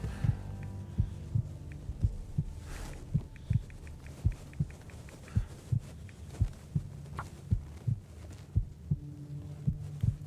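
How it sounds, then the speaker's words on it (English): Low-health heartbeat from the survival game The Long Dark: a steady, slow series of soft double thumps, evenly spaced and heard alone over a faint background hum. "if you hear the telltale heartbeat, it is not because something's under our floorboard"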